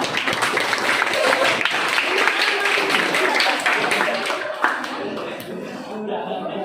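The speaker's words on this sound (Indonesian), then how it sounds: "tepuk tangan untuk kelompok Mario" Students in a classroom clap for a presenting group, a dense, close round of hand claps lasting several seconds, mingled with chatter and light laughter before fading out.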